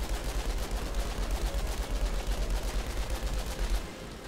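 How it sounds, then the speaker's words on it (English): Rapid gunfire in the video game Outriders, a continuous stream of close, loud shots with a steady rhythmic pulse and heavy low thumps, running almost the whole time before easing off near the end. "I can shoot him from above."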